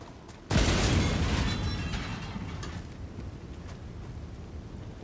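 A grenade in Helldivers 2 goes off with a sudden loud boom, then a long rumbling decay and scattered debris crackle fading over several seconds.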